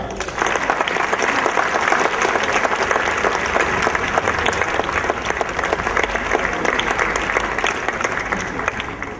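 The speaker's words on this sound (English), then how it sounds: "give the gold seal recipients another round of applause" At a 2014 high school graduation ceremony, the audience gives the gold seal recipients a loud, dense round of applause that stays steady throughout with no pauses.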